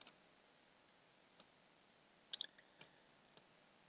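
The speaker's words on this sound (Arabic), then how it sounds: "نضغط على سيف." Computer mouse clicks while saving settings in a No-IP dynamic DNS client, a handful of sharp, quiet, close clicks scattered irregularly over a few seconds, no talking.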